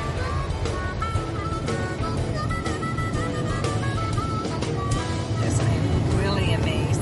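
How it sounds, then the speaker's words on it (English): A car engine runs steadily while driving on a long test in hot sun, a continuous low hum with road noise and tonal whine underneath, getting slightly louder near the end. "This car is still running after over 20 miles"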